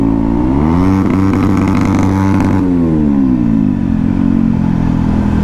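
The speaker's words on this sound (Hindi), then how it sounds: "देख रहे हो 5160 का एग्जॉस्ट" A motorcycle exhaust on a 5160 bike revs loudly and close at night, the engine note rising and holding before easing back to a rough, steady idle.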